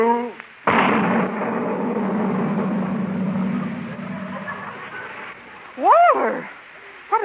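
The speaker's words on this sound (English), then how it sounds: "It was just sort of a giant firecracker, Miss Brooks." A giant firecracker goes off inside a cannon with one loud, close blast that decays into a long rumbling roar, followed later by a raised voice.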